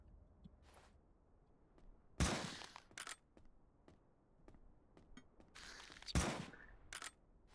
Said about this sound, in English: Almost got hit by the turret.